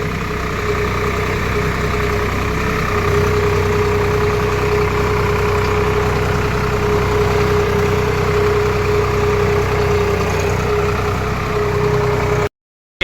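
A Swaraj 855 FE tractor pulls a 5 tyne cultivator through a damp field, its engine droning at a loud, steady pitch throughout before cutting off abruptly at the very end.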